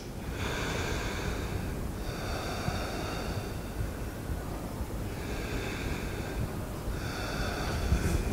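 Slow, deep breathing during a backbend yoga pose, with long even inhales and exhales repeating in a calm rhythm under soft background music.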